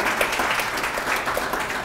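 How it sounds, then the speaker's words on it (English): An audience at a celebration honoring Dr. Eugene Herrington gives a round of applause, steady dense clapping from a large crowd, loud and continuous for the whole moment. "Give him another round of applause."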